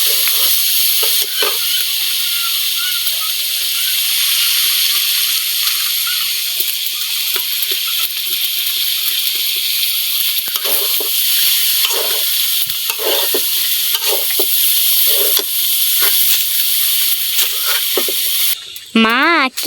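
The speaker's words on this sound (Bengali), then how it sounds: "রান্না করতেছো খিচুড়ি রান্না করতেছি আজকে" Khichuri of mung dal and beef fat sizzles and bubbles steadily in a pot over a village fire, a constant loud frying hiss with occasional stirring scrapes.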